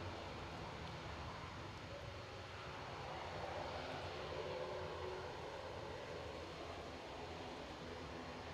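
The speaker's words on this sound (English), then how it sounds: "So the next departure is a Ryanair" A Ryanair Boeing 737 departs Edinburgh Airport, its jet engines making a steady broadband roar that stays at an even level throughout, heard from a distance and outdoors with no talk.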